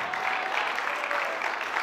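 A church congregation clapping together, a dense steady wash of applause at moderate distance with faint voices mixed in.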